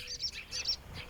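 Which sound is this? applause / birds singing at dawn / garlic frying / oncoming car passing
birds singing at dawn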